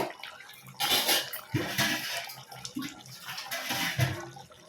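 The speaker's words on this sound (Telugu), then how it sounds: "ఇప్పుడు కొంచెం వాటర్ ఇప్పుడు పోసుకుందాం మనం" Water pours into a curry cooking in a pot, splashing and gurgling in a few loud bursts with short pauses between them, heard close by and without talk.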